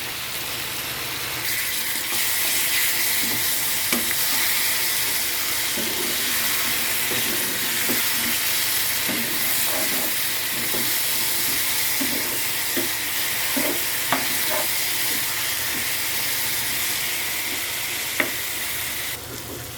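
Chicken for a dry Telugu-style chicken curry frying in a pan, a steady broad sizzle lasting throughout with occasional stirring clinks and scrapes, close and fairly loud, no talking.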